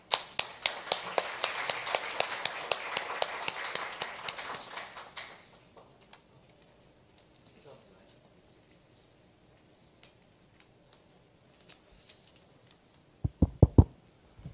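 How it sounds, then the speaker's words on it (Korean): An audience at an agricultural and food industry forum gives lively applause that fades after about five seconds, followed by a few scattered claps, quiet room noise and some sharp thumps near the end. "큰 박수로 무대 위로 모시도록 하겠습니다."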